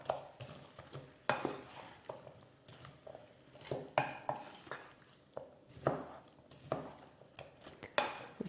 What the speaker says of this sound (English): Here I've got 200 grams of potato chopped ready. Mix that in. Get it all nicely mixed together.